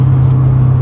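Car engine with a steady low drone held loud and close during a pull after a downshift from sixth to fifth gear, with no clear rise in revs over the short stretch.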